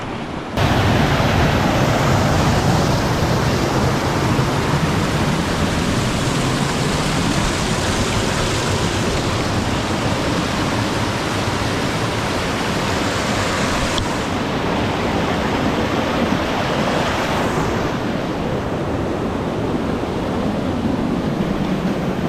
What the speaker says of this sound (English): There's some waterfalls straight away, which is probably a good thing.